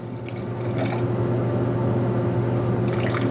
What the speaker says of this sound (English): you're going to pour this out to about a quarter